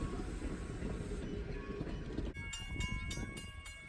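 Strasburg Rail Road steam locomotive pulling a passenger train through Pennsylvania countryside, a rumbling rolling train with rhythmic clicking of wheels and a few sharp metallic squeals near the end.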